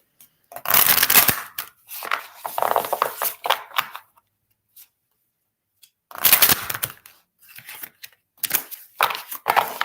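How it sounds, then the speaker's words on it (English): Tarot and oracle cards are shuffled by hand in several bursts of crisp riffling and slapping, separated by silent pauses, close and fairly loud with no talking. "I'm going to shuffle up and pull an oracle card just to ground information for you."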